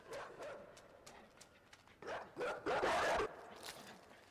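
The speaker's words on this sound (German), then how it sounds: "Köter." Dog barking in the video game Inside: several short, sharp barks and yelps at moderate distance, clustered in quick bursts with louder calls toward the end, over a low game ambience.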